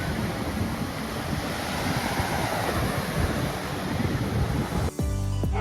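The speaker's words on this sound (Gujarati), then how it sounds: "દરિયા કિનારો ખૂબ સારો હતો" Sea waves wash onto the shore at Dwarka with a continuous broad rumbling surf and wind buffeting the microphone, ending with a brief low engine-like drone.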